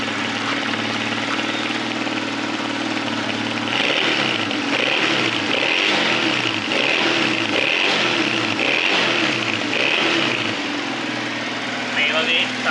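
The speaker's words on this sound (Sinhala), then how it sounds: "ඔන්න ස්ටාර්ට් කරා බයික් එක 200 එක." A Honda CD 200 Roadmaster classic motorcycle engine idles steadily up close, then revs in a series of rhythmic throttle blips before settling back, loud and continuous throughout.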